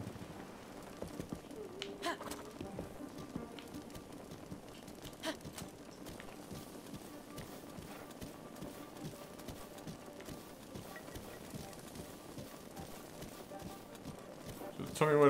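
Horse galloping in the video game Breath of the Wild, Korok Forest area: steady, rapid hoofbeats run faint and continuous throughout, with a player talking over them.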